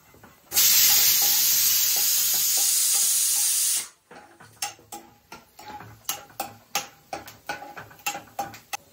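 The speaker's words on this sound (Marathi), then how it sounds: "तर हे काजू बदाम आपण मस्त असे तुपातनं भाजून घेऊया." Cashews and almonds roasting in ghee: a loud burst of hissing sizzle for a few seconds, then a run of sharp rhythmic clicks and taps of a spoon stirring the nuts in the pan, close up with no talk.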